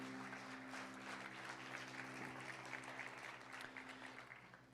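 Church congregation applauding for Jesus at a summer congress service, steady even clapping throughout, fairly faint and distant, with a low hum underneath.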